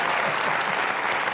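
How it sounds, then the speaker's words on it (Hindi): Studio audience bursts into loud, dense applause on an Indian TV comedy show, a short, sustained wash of clapping with no other sound. "एक बार जोरदार तालियां।"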